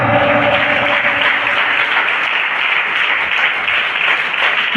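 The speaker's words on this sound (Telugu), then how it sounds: "చప్పట్లు కొట్టండి గట్టిగా" A church congregation claps loudly together in a dense, sustained roar of applause that stays steady and full from start to finish.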